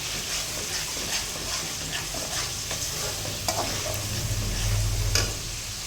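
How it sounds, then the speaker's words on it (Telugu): Masala fries in oil in a pan while a spoon stirs it, giving a continuous close sizzle broken by scraping strokes and occasional sharp spits, louder bubbling swelling near the end. "మసాలా అయితే ఫ్రై అయింది చూడండి ఆయిల్ అంతా పైకి తేలింది"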